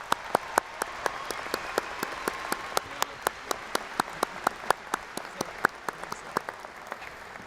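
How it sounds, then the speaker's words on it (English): Applause at a university fall commencement ceremony, a large crowd's soft wash of clapping with regular sharp claps standing out, steady throughout at moderate distance. "Please join me in showing our appreciation with a round of applause for their efforts."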